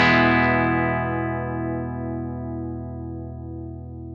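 A single sustained electric guitar chord rings out through an Axe-FX III amp modeler with speaker drive settings applied, loud at the strike and slowly decaying over about four seconds with no talking.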